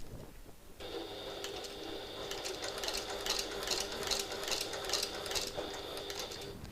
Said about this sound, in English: I'm going to try and sew as straight as I can, even without having a guide there, seeing as I'm using my contrast thread